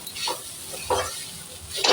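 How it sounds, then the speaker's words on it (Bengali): Spring egg rolls fry in hot oil with a steady sizzle, broken by a few short stirring or scraping strokes in the pan, close and moderately loud, with no voices. "ভাজা ভাজা হয়ে এসছে, এবার নামিয়ে দেবো।"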